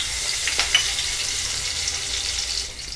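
Cumin seeds and chopped green chili frying in mustard oil in a kadhai, a steady close sizzle with faint crackles and stirring, no voices over it.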